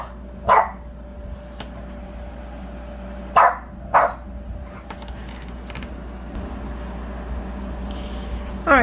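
Indoor dogs let out a few sharp barks and yips, scattered singly and in a quick pair over a low steady background hum, fairly close.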